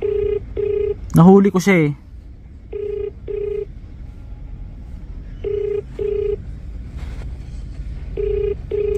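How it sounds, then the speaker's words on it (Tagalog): A phone call is placed, with short repeated dial or ringback tone bursts in a steady on-off rhythm across the clip; a voice speaks briefly near the start. "Wait, tawagan natin ulit."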